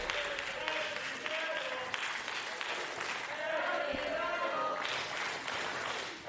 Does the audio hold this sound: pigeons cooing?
no